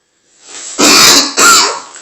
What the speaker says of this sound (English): Excusez-moi for dying of my cough.